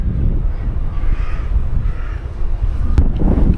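A headwind buffets a cyclist with a continuous low, rumbling wind roar that swells and eases unevenly over several seconds, with no speech.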